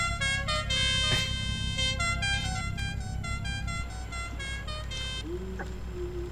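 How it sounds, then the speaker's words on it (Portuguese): A car horn in the Assetto Corsa driving game, sounding as a long, loud, tonal blare that holds for several seconds before cutting off, then a short lower toot near the end. "E essa buzina aí, Thierry?"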